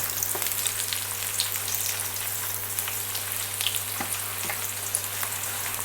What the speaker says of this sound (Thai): เจียวหัวหอมนี่ต้องคอยคนเรื่อยๆ นะคะเพราะว่า เขาจะได้สุกพร้อมๆกัน